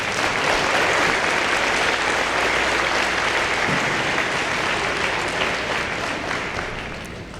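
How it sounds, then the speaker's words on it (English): A crowd at the 2013 inauguration ceremony at Salish Kootenai College claps in a full, sustained round of applause. The clapping stays thick and even for several seconds, then tapers softly at the end. "Give her a round of applause,"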